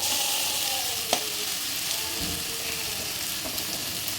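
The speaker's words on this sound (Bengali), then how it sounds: "মাছটা কিছুক্ষণ ভেজে নিলেই খেতে কিন্তু ভীষণ টেস্ট হয়" Fish coated in a chili and onion paste fries in oil, giving a steady close sizzle throughout with a single sharp clink of a utensil partway and faint scraping.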